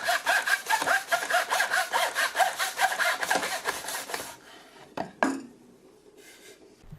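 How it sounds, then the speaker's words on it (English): Hand saw cutting 1x6 pine board in a large miter box: steady rhythmic back-and-forth rasping strokes, close and loud, stopping abruptly after about four seconds, followed by a couple of light wooden knocks. "so I'm cutting them in my rather large miter box"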